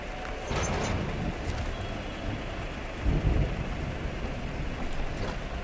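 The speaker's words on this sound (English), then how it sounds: "you may hear thunder once in a while." Low thunder rumbles in the distance beneath steady rain-like noise, with one brief swell partway through, in the video game SnowRunner.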